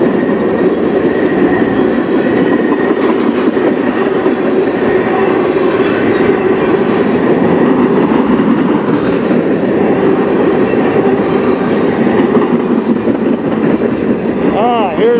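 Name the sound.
CN freight train hopper cars passing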